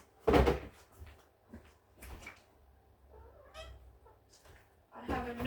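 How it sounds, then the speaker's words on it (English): A cat climbing a window from outside makes scratching and bumping noises against the surface, with a loud thump at the start and another burst near the end, separated by quieter rustling. "my cat is climbing up the window from the outside."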